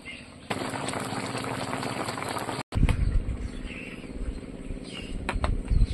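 Fish curry with fish pieces simmering in a pot, a steady bubbling, hissing boil that is loud and continuous. It cuts out briefly and comes back with heavier low rumbling bursts, and no one speaks over it.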